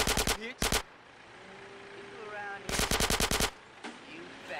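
Rapid bursts of automatic gunfire from a modded GTA San Andreas game rattle out in two sharp volleys with a lone shot near the end, separated by quieter game ambience.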